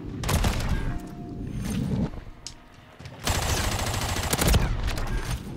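Loud full-auto bursts from an FTAC rifle in a video game, two long rattling strings of shots separated by a short lull, close and dense.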